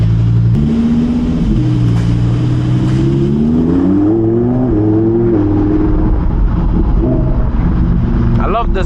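A Lamborghini Huracan RWD EVO Spyder engine revs and climbs in pitch with a throaty intake roar, loud and close, heard from inside the cabin.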